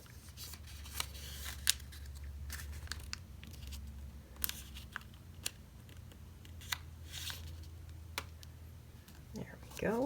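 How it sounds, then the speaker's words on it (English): Paper folded for an origami bunny makes soft, close crinkles and sharp creasing snaps at irregular moments, with quiet handling rustle between them over a low room hum. "we're going to fold this other bottom edge towards the center line."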